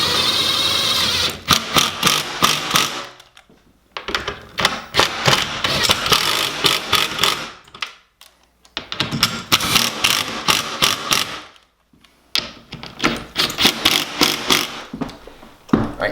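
Bursts of a power driver whirring and ratcheting drive TV wall mount fasteners in tight, several runs of a few seconds each separated by short pauses.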